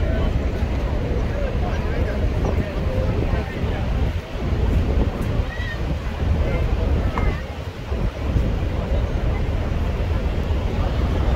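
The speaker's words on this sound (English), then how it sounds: "You're right next to the waterfall." Niagara Falls roars as a loud, continuous broadband rush of falling water close by, heavily buffeted by wind noise on the microphone, with no pauses.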